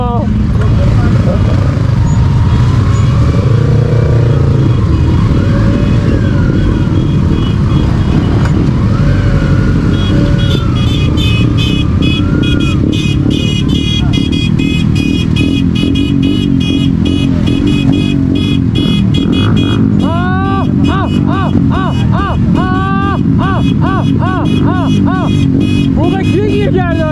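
Crowd of motorcycles at a street gathering, engines revving and droning loudly together while horns toot in short melodic bursts, with people talking and shouting throughout.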